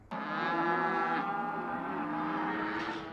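Cattle lowing at a sale during a California drought, including show heifers: one long, loud, drawn-out moo held for about three seconds, close by and with no talk over it.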